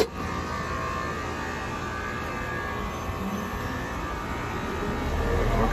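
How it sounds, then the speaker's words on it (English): A Copeland compressor in a Rheem 4-ton outdoor central AC unit runs with a steady, fairly quiet droning hum that swells slightly toward the end, with no talk over it. "We weren't compressing before, but now we're compressing."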